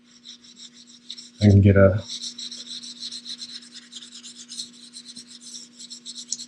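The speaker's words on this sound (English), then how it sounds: "pushes down the leaf real down tight into the varnish" A hand spinning tool rubs silver leaf tight into varnish with a steady, fine, scratchy rasping that carries on close by. A brief spoken phrase cuts in near the start.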